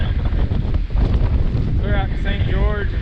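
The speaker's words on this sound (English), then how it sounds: "It's so windy up here." Strong wind roars across the microphone on a high mountain trail overlooking Millcreek, a loud, steady buffeting rumble with gusty swells, and a voice faintly speaks under it near the end.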